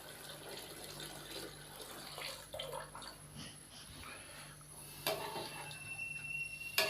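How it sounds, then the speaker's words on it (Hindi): Water pours steadily into a cooking pot for green chicken pulao, six glasses' worth added for a kilo of rice, a continuous splashing rush with a louder splash near the end. "मैं इसके अंदर 6 गिलास पानी शामिल करूँगा"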